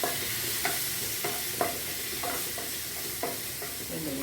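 Onion and tomato frying in a pan for white kadala curry, with a soft steady sizzle under a spatula stirring and scraping in repeated irregular strokes, close and quiet.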